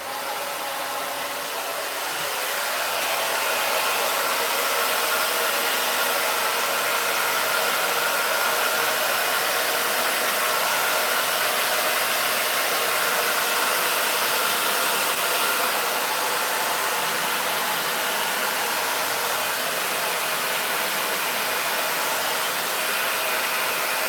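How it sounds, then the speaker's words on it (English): A hairdryer blowing on resin roars steadily and loudly up close for over twenty seconds, a constant broadband rush that swells in at the start and holds with no talk. "I am going to go in there with the hairdryer after I plug it in"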